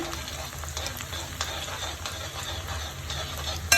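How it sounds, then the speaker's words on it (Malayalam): Garlic frying in hot oil for a dates and lemon pickle, a close, continuous crackling sizzle with occasional stirring, holding steady to the end. "വെളുത്തുള്ളി ഇട്ട് കൊടുക്കാം നന്നായിട്ട് മുരിഞ്ഞോട്ട്"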